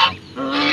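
A young gosling at a feeder gives a single short, close honking call that dips briefly and then rises into a sustained nasal note.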